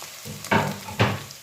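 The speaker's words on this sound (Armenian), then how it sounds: "Սիրելի հետևորդներ, հիմա էլ կարտոֆիլն եմ լցնում։" Potatoes tipped into hot oil give two quick, loud sizzling bursts, half a second apart, each fading to a softer frying hiss.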